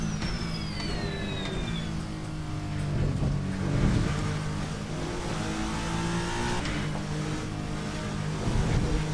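A Toyota TS050 prototype race car, the Tagomi TS50 mod in Assetto Corsa, drones loud and steady at high revs with shifting engine tones and faint tire noise, close and continuous.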